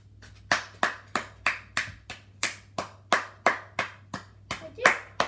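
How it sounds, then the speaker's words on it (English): A small group claps in a round of applause at home after a drawing challenge, with about a dozen distinct, close, loud claps spaced unevenly and a low steady hum underneath. "Can I have a round of applause this time instead of?"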